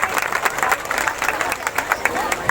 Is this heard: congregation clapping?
yes